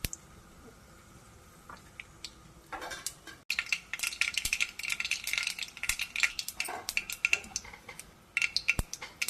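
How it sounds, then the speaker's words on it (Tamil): Mustard seeds splutter in hot oil in a kadai, a close stream of sharp crackles and pops starting after a quiet moment and continuing in irregular bursts to the end. "கடுகு நல்லா பொரிட்டங்க"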